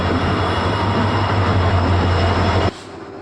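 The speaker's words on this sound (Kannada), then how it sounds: "ಟ್ರೈನ್ ಬಂತು ಇವಾಗ." A train pulls into a railway station at night, a loud steady rumble with a low engine drone that stops abruptly near the end, leaving quieter background.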